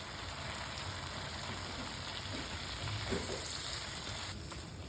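Carrots sizzle softly in butter in a pan for carrot halwa, a steady close frying hiss with faint stirring scrapes throughout.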